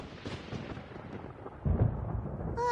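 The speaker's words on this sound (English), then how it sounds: "Paimon hears thunder!" Thunder in the video game Genshin Impact rolls as a low, rumbling boom that swells partway through and lingers loudly, with a brief tonal game sound at the very end and no speech.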